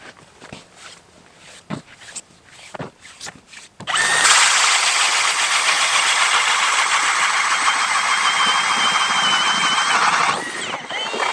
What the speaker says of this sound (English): I'm going to drill some holes and see if we can find some fish.